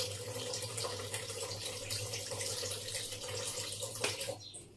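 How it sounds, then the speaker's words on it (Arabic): Cooking oil poured from close by over a tray of mackerel and potatoes with vegetables, a steady liquid trickling and splashing with no talk, over a low constant hum. "احط الزيت على الوش كده، شويه زيت"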